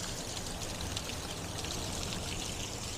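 Steady, dense roar of a waterfall in Iceland, heard close up as a continuous broadband rush of falling water with no pauses and no voices.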